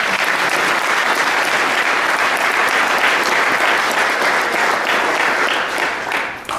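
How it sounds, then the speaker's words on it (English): A crowd at a golf legacy award ceremony gives Charlie Mechem a sustained round of applause, full and even throughout before easing slightly as it ends. "So if we can give Charlie another round of applause for joining us."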